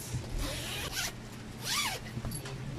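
A zipper slider is pulled along the zipper of a sewn foam cover, several short close rasping zips with brief pauses in between and no talking.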